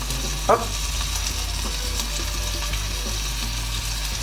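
The bottom half of a burger bun cooks in a frying pan with a constant hiss, low and even, broken once early by a sharp clink or scrape.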